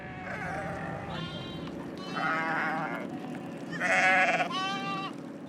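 Goats in a desert village bleating, several distinct nearby bleats in a row over low background noise.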